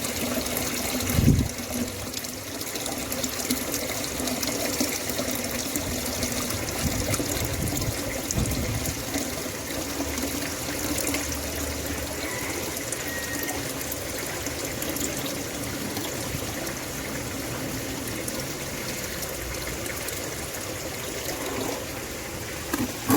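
Rinse water poured out of a container after cleaning live silkworms for gourami fish larvae, a soft continuous trickle and splash that stays faint and steady, with one brief louder splash near the start and no talking.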